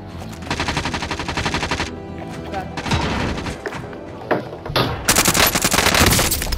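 Automatic gunfire in Call of Duty: Modern Warfare, rapid bursts of machine-gun fire close and loud, interrupted by single shots and thumps, then a long final burst, with players talking over it.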